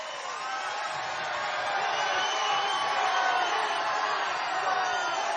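Large rally crowd for Donald Trump in Sumter, South Carolina roars and cheers in a sustained wall of voices that swells slightly, heard from within the venue.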